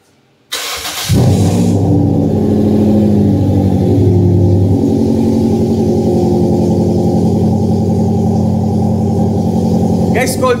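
Toyota Vios 2014 with a free-flow muffler cold-starting: a brief crank, then a loud, rough, steady idle that rumbles close by with no speech.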